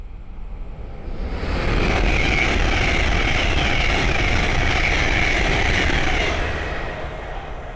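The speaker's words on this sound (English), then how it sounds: "the next train to pass by is a Hull train 800 from Newcastle to London King's Cross" A Hull Trains Class 800 passes on the East Coast Main Line at Great Wymondley, running from Newcastle to London King's Cross; a broad roar swells over about a second, holds loud and steady, then eases off near the end.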